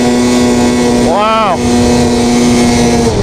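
A snowmobile engine revs hard at high RPM in cold open air, a loud steady whine with a rising and falling swell partway through, and a brief spoken exclamation over it.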